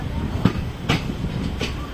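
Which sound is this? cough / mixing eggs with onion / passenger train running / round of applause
passenger train running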